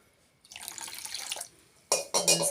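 Food being washed under a running tap in a home kitchen: water gushes into a sink for about a second, pauses, then returns in two louder, splashing bursts, with no voices.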